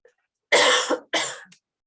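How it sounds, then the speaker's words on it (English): Two harsh, loud coughs in quick succession, close up, with a short quiet gap between them. "Sorry, I have to cough now."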